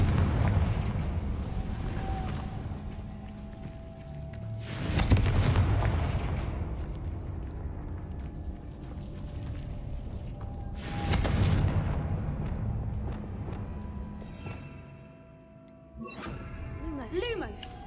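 Fiery Confringo blast spells erupt in the Hogwarts Legacy video game: loud booming bursts strike at intervals over a steady rumbling game background, with a voice present at times.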